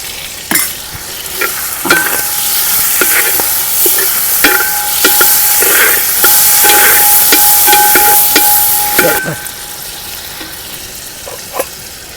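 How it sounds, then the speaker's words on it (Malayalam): Prawns frying in a pan with garlic, ginger, turmeric and salt: loud, close sizzling broken by repeated scraping stirs, then the hiss drops away sharply near the end, leaving a few quieter clicks. "ചെമ്മീൻ മൂത്തോട്ടെ"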